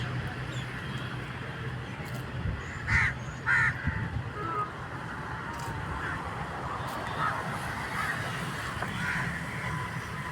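Crows caw several times at a riverside spot with big trees, mostly faint and a little distant, a couple of louder calls standing out over a steady outdoor wash of background noise.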